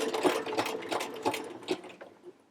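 A sewing machine stitches elastic onto the waistband of a tiny doll skirt, its needle running in quick bursts with short pauses between them. The sound is close and alone, with no talk.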